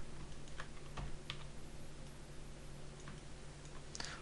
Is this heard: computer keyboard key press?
yes